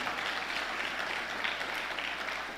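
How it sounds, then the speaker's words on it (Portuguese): A church congregation applauds in a steady, even wash of clapping that fills the whole stretch without pause or voices. "Vamos aplaudir Jesus, porque Ele nos regenerou."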